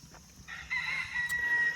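A rooster crows once at a homestead, a short, fairly faint, drawn-out call heard at a little distance against quiet surroundings.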